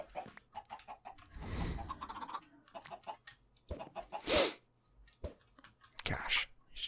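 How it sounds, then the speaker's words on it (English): Minecraft chickens cluck in short, repeated bursts, with a few louder squawks standing out against quieter clicks and game noises. "Chickens are so high maintenance."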